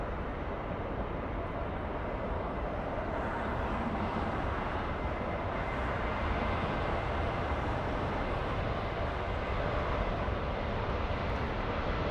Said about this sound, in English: Looks like the Italian has just arrived in the south side of LAX, ITA, flying in from Rome